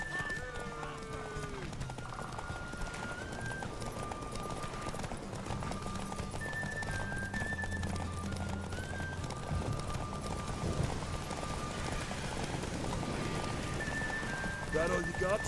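Horses gallop in The Witcher 3 in a steady, rapid clip-clop of hooves, fairly close, running under game music, with voices talking over the hoofbeats.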